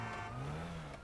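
A car engine approaching in a video game, a steady mid-pitched drone that rises slightly in pitch over about a second, quiet and continuous, with no talking.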